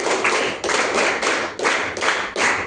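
Applause from an audience at a Bangalore school event, a dense wash of clapping hands arriving in several surging bursts, close and steady with no talk over it.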